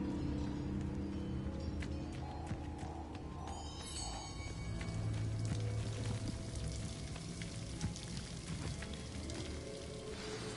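A rushing waterfall in Hogwarts Legacy pours steadily as a dense, hissing wash of falling water, constant and fairly close, with scattered game sounds and faint tones over it.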